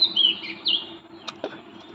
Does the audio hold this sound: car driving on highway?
no